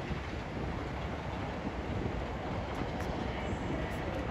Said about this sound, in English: Departs on a test run bound for Holyhead.